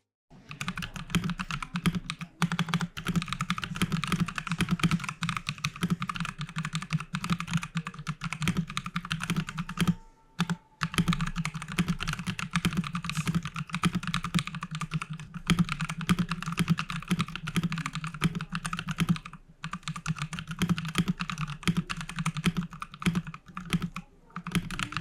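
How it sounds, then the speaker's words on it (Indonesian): Steady typing on a Rexus Heroic KX3 mechanical keyboard fitted with brown tactile switches: a dense, continuous patter of close keystrokes with a couple of short pauses, heard alone. "Seperti brown switch pada umumnya ya, karakteristiknya tactile, ringan, enak buat dipakai ngetik-ngetik, dan yang jelas suaranya lebih adem daripada blue switch."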